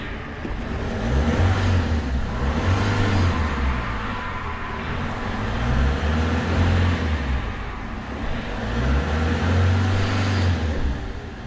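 A Peugeot 307 2.0 HDI diesel engine with a fault idles and is lightly revved, its low rumble rising and falling in slow, uneven surges, steady and close throughout.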